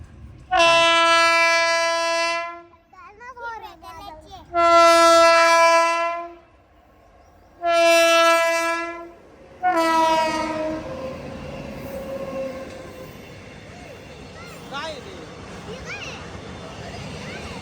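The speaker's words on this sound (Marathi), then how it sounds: "ग्रीन कलरची रेल्वे" A train horn blares in several long blasts, followed by the heavy rumbling clatter of a green goods train rolling past nearby.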